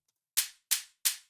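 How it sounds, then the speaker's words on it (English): Short hi-hat from a jump-up drum and bass drum loop in FL Studio, played alone: three crisp, evenly spaced closed hits on the beat, each decaying quickly. "Next, we've got short hi-hat hitting every beat,"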